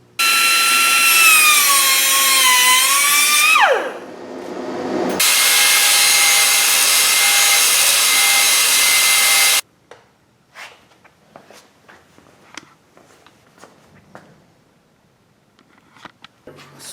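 A power tool cuts off double-headed nails on a 1970 AMC Javelin/AMX ram air hood, a loud, close, high whine that drops in pitch under load, pauses briefly, runs again steadily, then stops, leaving quiet clicks and handling noises.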